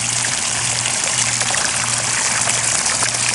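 Water from a crawlspace condensate sump pump pours steadily into a bucket that is overflowing, a loud, continuous close splashing gush with no voices over it.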